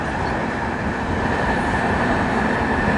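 A passenger train on the Mancherial to Hyderabad line runs steadily along the track, heard from on board as a loud, continuous rumble and rattle that holds even without any talk.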